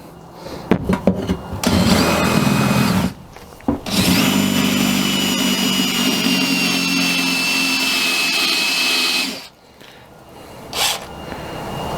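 A power drill with a bit just over 3/8 inch bores into the floor of a 2006-2018 Mercedes Sprinter van, whining loudly in two close bursts. A short gap separates them, and a longer steady grinding run ends abruptly.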